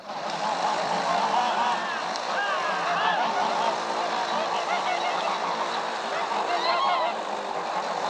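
Geese honking on a film set recreating 1905 Russia: a steady chorus of nasal honks and calls from a flock, close and continuous, with a low crowd murmur underneath.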